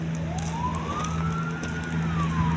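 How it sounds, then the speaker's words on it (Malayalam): An ambulance siren wails in a single slow rising and falling sweep, distant and fairly faint, over steady road traffic rumble at the busy Vyttila junction near Kundannoor bridge in the morning. "ആംബുലൻസ്, രാവിലെ തന്നെ ആംബുലൻസ് കേസ്."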